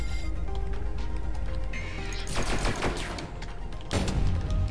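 Enemy fire in the Sublevel Zero shooter game, a dense burst of overlapping shotgun-like blasts followed by a second sharp volley, loud and close over a humming game soundscape, with no voice.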